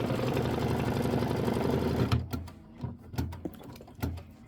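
An embroidery machine stitching a watermelon quilt block runs in a fast steady rapid-fire needle rhythm for about two seconds, then stops, leaving a few separate clunks and mechanical taps.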